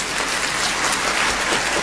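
Dense, continuous applause from a large audience at a political speech, a steady loud wash of many hands clapping with no pauses and no voices on top.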